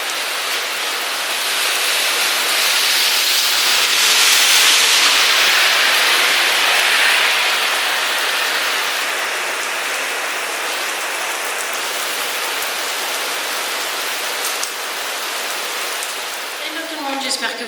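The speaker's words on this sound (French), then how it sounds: "Et il pleut." Steady rain falls outdoors at a work site, a dense, even hiss of drops on surfaces that holds close and fairly loud throughout, with no voices over it.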